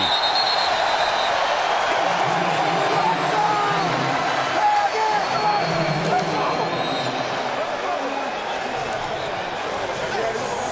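Crowd at a Dallas Renegades vs Los Angeles Wildcats football game, a continuous roar of cheering and whoops from a large stadium audience, with commentators talking over it.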